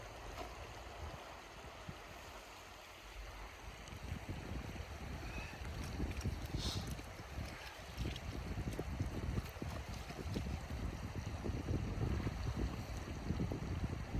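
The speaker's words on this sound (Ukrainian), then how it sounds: "Ось, друзі, така річечка біжить." A small river running through snowy mountains in cold weather, a steady close rushing and gurgling of water with some wind noise across the microphone, continuous throughout with no voices.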